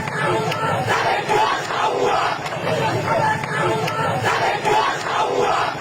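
Crowd chanting a political slogan in the street, played back as a recording: many voices shout in a steady repeating rhythm, loud and dense, with crowd noise underneath throughout.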